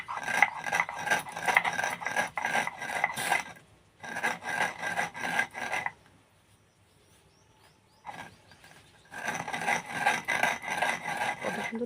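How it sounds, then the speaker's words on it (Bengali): Lentils are crushed on a flat stone sil grinding slab, making crunchy, gritty rasping like crushing puffed rice. The scraping comes in close rhythmic bursts separated by short quiet pauses. "কত সুন্দর দেখো, মুড়ির মতো আওয়াজ হচ্ছে, এরকম মুড়ি গুঁড়ো করলে।"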